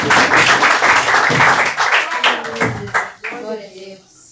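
A church congregation applauds in worship, a dense burst of clapping close by that fades over a few seconds as a voice carries on over the tail end.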